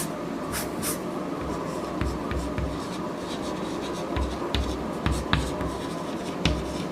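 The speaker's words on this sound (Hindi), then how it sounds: "देखो इधर मैं लिख देता हूँ" Marker or chalk strokes scratch across a board during a Class 10 physics lesson on electric power, coming as short, scratchy bursts at close range over a steady background hum. No one speaks.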